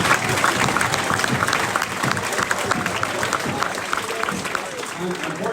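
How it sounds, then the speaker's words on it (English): A banquet audience gives a sustained round of applause for the team's coaches, dense clapping filling the room throughout with voices mixed in. "great season with the round of applause for these guys"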